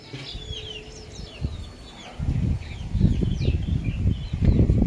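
A country hen perched on top of a thatch mat clucks in low, repeated bursts close by while her chicks peep in thin, high chirps throughout.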